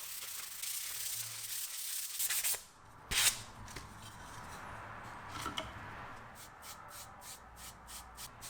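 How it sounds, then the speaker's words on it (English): Hand sanding of the painted plywood speaker enclosure, quiet close rubbing strokes in uneven bursts, ending with a run of quick regular back-and-forth passes. "so I lightly sand the surface and apply the second coat on the enclosure and the back"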